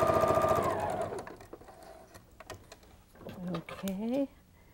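Sewing machine chain-stitching quilt pieces, a motor hum that comes in short bursts of stitching and stops between pairs of pieces, fairly close and under a person talking.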